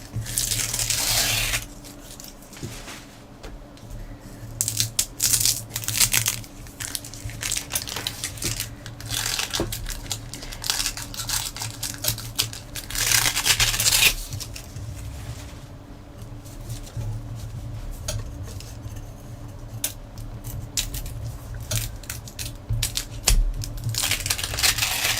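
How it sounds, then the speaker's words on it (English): Wax paper peeled away from handmade botanical paper, giving close, crinkly crackling and tearing bursts in repeated stretches over about 25 seconds, with no voices. "The wax paper will generally come up, but it seems like it sticks more at the edges"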